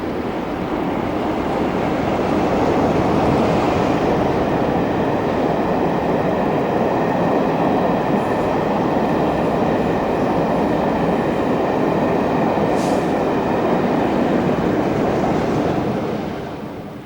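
A train hauled by top-and-tailed British Rail class 47 diesel locomotives rushing past, a long steady roar of wheels and engines, loud and sustained before easing off at the end, with no voices.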